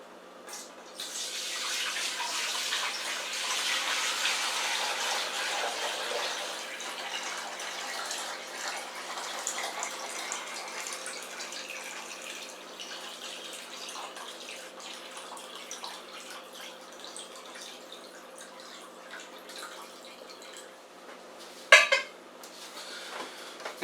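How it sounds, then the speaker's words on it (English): Chicken soup broth is poured back and forth between two pots, a sustained splashing, rushing liquid stream that swells early, slowly tapers off, and ends with a sharp clank of pot metal near the close. "What I'll do is I'll drain it back and forth between these two pots here now."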